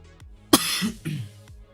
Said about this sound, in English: Excuse that cough, guys.